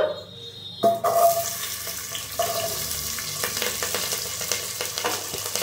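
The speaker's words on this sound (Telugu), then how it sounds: "ఉల్లిపాయలని, పచ్చిమిరపకాయలని, కరివేపాకుని వేసేస్తున్నామండి." Onions, green chilies and curry leaves hitting hot oil for mutton paya curry, a sudden loud sizzle that settles into steady close crackling and popping with occasional stirring clinks.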